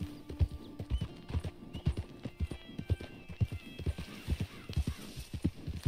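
A horse's hooves clip-clop in a steady walking rhythm, close and clear, with faint Red Dead Redemption 2 game ambience on PS5 and quiet background tones.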